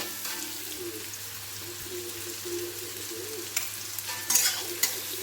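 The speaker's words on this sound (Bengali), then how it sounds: "আর একটু নুন দিয়ে ভালো করে নাড়বো, তাতে কি হবে, পেঁয়াজটা নরম হয়ে যাবে।" Onions frying with salt in a pan are stirred steadily, giving a constant low sizzle and a few scraping clicks of the spoon near the end, with no talking.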